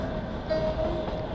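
Kalka-Shimla toy train running through the hills, a continuous low rumble with a faint tonal whine in the middle.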